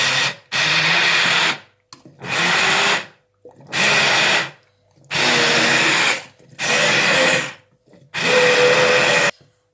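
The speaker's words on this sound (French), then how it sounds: "on prend le mixeur plongeant et on mixe" An immersion blender whirs through homemade wholegrain mustard in six loud, close bursts of a few seconds each, separated by brief silent pauses, with no talking.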